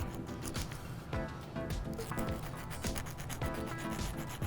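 Small file rasping back and forth over the metal ends of a crescent earring piece, a quick, close, rhythmic scraping with no voices.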